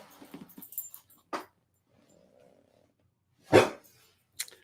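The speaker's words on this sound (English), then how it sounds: "Now he's barking at my neighbor lady." A dog barks in short, sharp bursts with pauses between them, a few close yips early on and then a louder bark and a final one near the end.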